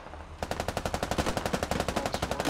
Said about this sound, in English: mortars landing at the US line